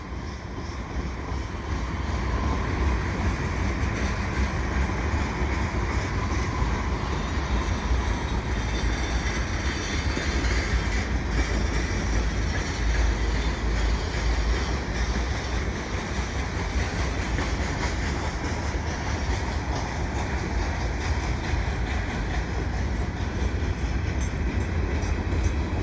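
Quebec North Shore and Labrador rebuilt AC4400CW locomotives passing at Valois in winter, a steady continuous roar of engines and rolling wheels with faint clickety-clack, sustained and fairly close throughout.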